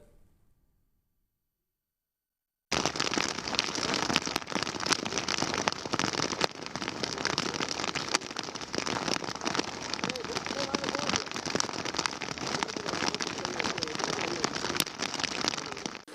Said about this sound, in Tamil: மழை வேறு இன்னும் பேஞ்சிட்டே இருக்குது.